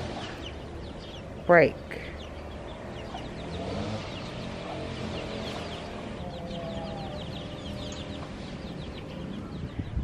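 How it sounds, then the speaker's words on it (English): A mother hen with her chicks gives one sharp, loud squawk early on, followed by soft, scattered clucking in a steady outdoor ambience, with a person speaking briefly. "Look at this chicken. Keeping her children under her wing."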